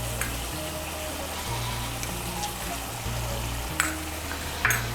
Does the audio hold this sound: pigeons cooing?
no